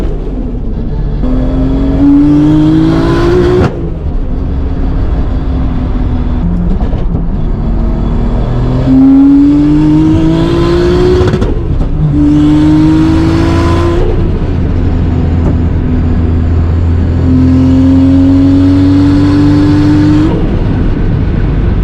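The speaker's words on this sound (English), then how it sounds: "this thing really loves to spit flames out the exhaust when it hits red line, especially with downshifts" A Toyota Supra is revved hard to redline again and again, its engine note climbing in rising sweeps, falling away between pulls, then climbing once more, loud and close throughout.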